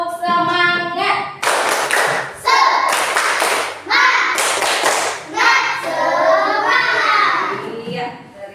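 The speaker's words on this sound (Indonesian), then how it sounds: "kita tepuk semangat dulu agar lebih bersemangat." A primary school class performs a rhythmic Indonesian spirit clap, bursts of children's patterned clapping alternating with sung and chanted call-and-response voices, loud and close.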